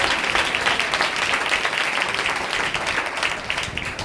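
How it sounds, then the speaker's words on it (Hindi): Applause for Jesus at a gospel meeting: a crowd claps steadily and fairly evenly, a dense patter of many hands sustained throughout, mid-level with no clear voices on top. "यीशु के लिए ताली बजाएं और उसको धन्यवाद"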